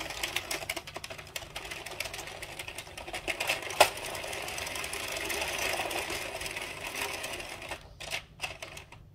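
An Addi King circular knitting machine is cranked around with no yarn in the feeder, giving a steady mechanical clattering whir for several seconds before it slows and stops in a few separate clicks.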